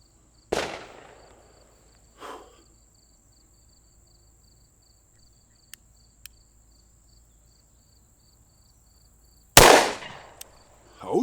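A Smith & Wesson Model 629-4 revolver with a 6-inch barrel fires 44 Magnum rounds outdoors, two loud sharp cracks several seconds apart, each trailing a short echo, with quiet insect chirping and a faint click between.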